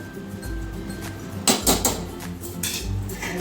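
A spoon clinks and scrapes against a metal pot while banana blossom simmers in salted boiling water for a vegetarian ghonto, with a few sharp knocks and rattles mid-clip over a low bubbling rumble.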